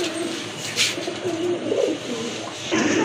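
Pigeons at a market stall cooing close by, soft repeated throaty calls layered over a busy background murmur.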